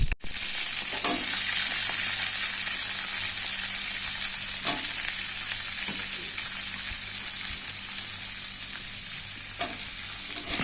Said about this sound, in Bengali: কড়াইতে কাঁচা লঙ্কা পাঁচফোড়ন দিয়ে দিয়েছি এবং বটবটি আলুগুলোকে ভেজে নেব।